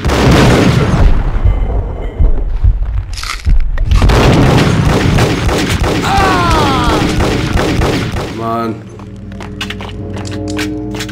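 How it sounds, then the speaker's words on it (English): Molotov cocktail and grenade explosions in the Max Payne video game, a run of loud booms and thuds layered with crackling fire and gunfire, ending in a quieter stretch with ringing tones. "Hate Molotov cocktails and grenades."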